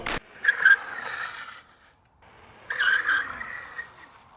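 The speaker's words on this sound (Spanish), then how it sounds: "la frenada se siente muy bien, es como ver frenar un maldito coche en la calzada" A Currus NF Plus electric scooter brakes hard twice, each stop a loud, sustained tire skid and squeal lasting about a second, preceded by a sharp initial clunk, close by with a short quiet gap between.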